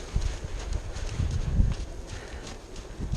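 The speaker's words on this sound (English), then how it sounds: "ask the horse to walk out" A horse walks out during a bagging desensitization session, its hooves giving soft, irregular clip-clop thuds on the ground, fairly close but low in level, with no talking.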